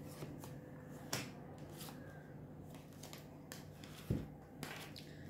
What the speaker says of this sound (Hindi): So 2 cards I'm going to pull for the angels reading.